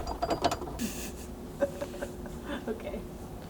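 8mm button head bolts threaded in by hand while fitting a lower MOLLE panel on a Bronco: soft, close metallic turning and clicking in short bursts, faint and scattered.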